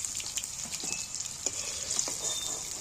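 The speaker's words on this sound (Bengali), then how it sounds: "দেখো কপিগুলো সুন্দরভাবে ভাজা হয়েছে এবার আমি তুলে দিচ্ছি" Cauliflower florets frying in a pan give a steady, fairly soft high sizzle throughout, dotted with light taps and scrapes of a spatula as the pieces are lifted out, no voices.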